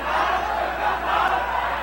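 A dense street crowd in Hong Kong shouts and jeers in a continuous roar of overlapping angry voices, steady and loud throughout.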